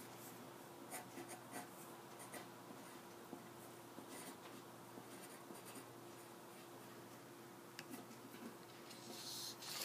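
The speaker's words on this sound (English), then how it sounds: "First, write your name on your paper." A pencil or marker scratching across paper as a name is written, faint and close, with short strokes and taps in an uneven rhythm over a steady low hum.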